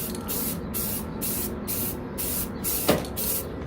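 Short bursts from a spray can lay a first coat of paint on a 3D-printed helmet, loud, close hissing pulses in an even rhythm with brief pauses between and a small knock near the end.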